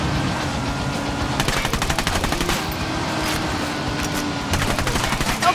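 Automatic gunfire rattles continuously in a Ghost Recon Wildlands co-op session, with dense rapid bursts that stay loud and close throughout and no pause.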